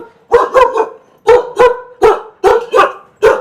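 Several Kombai dogs at a dog kennel bark in quick pairs and bursts, loud and nearby, with short pauses between volleys.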